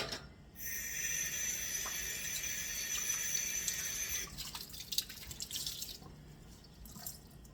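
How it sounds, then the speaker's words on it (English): Water trickling from a tap into a bowl for pie dough, a thin steady stream for several seconds, then stopping, followed by faint drips and soft handling sounds nearby. "I'm going to have to add a little more water."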